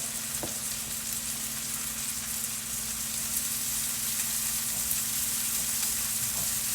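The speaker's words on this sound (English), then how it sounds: "As they sweated down, I added some garlic to it and then a little bit of ginger paste, and we're gonna mix that up." Onions with garlic and ginger paste frying for hibachi-style fried rice, a continuous even sizzle close by with faint stirring and a low steady hum underneath.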